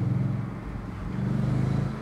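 A 2014 Audi RS4 Avant with a naturally aspirated 450 hp V8 on the move, its deep engine rumble steady and close throughout, with no voices heard.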